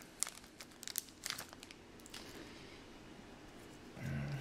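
Someone tears open the thin foil wrapper of a 2018-19 Series 1 retail hockey card pack: several quiet, close crinkling rips over a few seconds, then faint handling.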